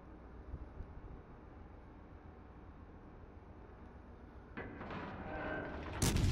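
Naval gunfire from a cruiser in the World of Warships video game, a steady low rumble of distant shots that builds into a louder burst of heavier fire near the end, with no talk over it.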